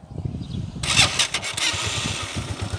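A TMX125 Alpha motorcycle engine is kicked and fires up, its low irregular thumping turning into a loud, close, rapid idle after a sudden start.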